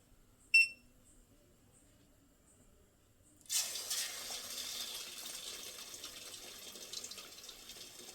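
Chicken leg pieces for kebab go into hot oil in a pan, with a short clink followed by a sudden hiss and then a steady, fairly quiet sizzle that continues to the end.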